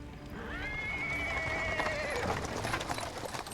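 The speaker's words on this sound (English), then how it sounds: "A cart drawn by a sad little horse appears from around the corner." A sad little horse pulling a cart in Pathfinder: Wrath of the Righteous whinnies loudly and at length, with hooves clip-clopping and wheels rolling over paving stones close by.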